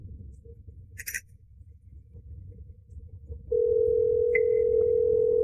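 A mobile phone call tone: faint background hum, then a steady, loud, unbroken electronic tone that begins partway through and holds to the end.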